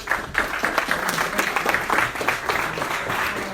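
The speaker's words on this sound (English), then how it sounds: "So everybody give a round of applause for Travis." Audience applause for a presenter at an ASHRAE energy-project talk, a steady wash of many hands clapping at moderate loudness, sustained throughout with no pauses.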